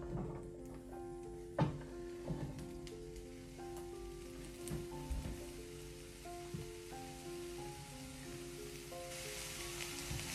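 Green pepper in a frying pan with a teaspoon of oil, crackling and hissing quietly in a soft, steady sizzle with a few louder pops and light utensil touches, no voices.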